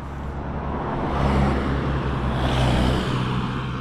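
A car passes on a coastal road on Jaizkibel mountain in the Basque Country on a warm morning, its engine and tyre noise swelling and fading in the middle distance over a steady outdoor rumble.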